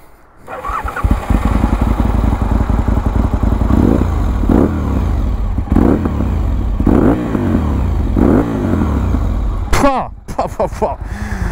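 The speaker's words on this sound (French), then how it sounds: "on va quand même vous faire écouter la moto" An Aprilia RSV1000R sport motorcycle engine cranks and starts, then idles loudly with repeated throttle revs rising and falling, ending in a sharp high rev.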